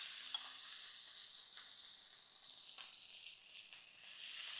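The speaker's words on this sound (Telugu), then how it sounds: "ఒక 2 మినిట్స్ ఫ్రై అవనిద్దాం" Bitter gourd chutney fries in a pan with cumin, garlic and fenugreek powder, giving a faint, steady sizzle and soft hiss with a few small crackles throughout, no voices.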